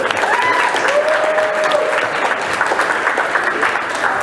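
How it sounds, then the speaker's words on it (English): Steady applause from a crowd, dense clapping sustained throughout at an even level, with faint whistles or voices mixed in. "I give everybody a round of applause and thank you."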